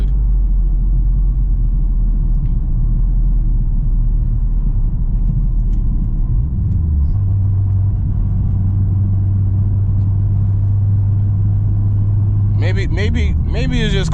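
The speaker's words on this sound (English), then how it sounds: "And the tires are still getting roasted." A 600hp Honda Civic Si on a spicy tune spins its tires, producing a loud, sustained low engine rumble and droning roar that shifts pitch midway, with a brief burst of higher revving near the end.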